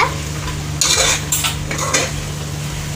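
Double beans being stirred with masala in a pan, with several bursts of metal spoon scraping and clinking against the pan over a low steady hum, a faint sizzle underneath and no talking.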